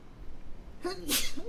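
A single sharp human sneeze bursts out near the mic partway through, preceded by a short intake, with a brief voiced sound after it during a casual livestream conversation.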